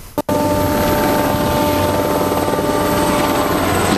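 A French Navy helicopter flies over the naval base at Fort-Saint-Louis, Martinique, escorting a patrol vessel and the frigate Germinal. Its loud, continuous rotor and engine roar is steady and close throughout, with no talk.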